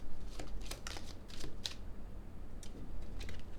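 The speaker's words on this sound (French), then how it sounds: "On va recouvrir les cartes." Playing cards handled and laid over one another on a table, a series of quick crisp flicks and slides in close, irregular bursts, with no talk.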